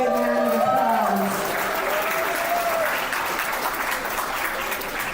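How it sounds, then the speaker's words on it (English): Audience applause at a high school esports state championship final: steady, dense clapping that fills the whole stretch with no gaps, with a voice speaking briefly over it at the start. "Let's give them a big round of applause."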